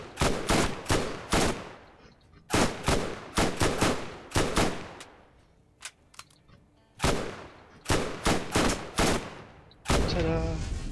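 Bursts of submachine gun fire aimed at a turret in the shooter game Borderlands, several rapid rattling volleys separated by short pauses, loud and close, with a few isolated single shots in between.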